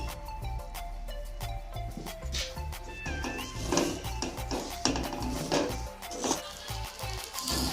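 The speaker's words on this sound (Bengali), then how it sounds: "একবারে হালকা আছে অনেকক্ষণ ধরে সুজিটাকে নেড়ে সিদ্ধ করে নেব" A spoon stirs semolina cooking in a pot, tapping and clinking against the metal in an uneven rhythm over a faint background tone, close and fairly quiet.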